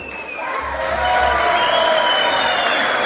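At an Internacional club consular gathering in Lagoa Vermelha, an indoor audience breaks into loud applause and cheering to welcome a speaker. The noise swells after the first second and holds as a thick, continuous roar of clapping and shouts.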